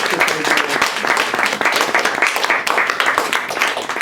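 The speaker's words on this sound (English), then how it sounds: "So I want to give a round of applause to Christina and Mary and all the wonderful" Audience applause at a poetry reading, dense steady clapping from a crowd sustained across the whole stretch at a fairly loud level, with no talk over it.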